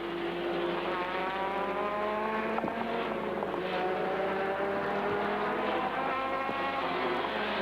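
A race car engine at the 1979 Bathurst 1000 screams continuously with rising and falling revs through gear changes, loud and sustained without breaks.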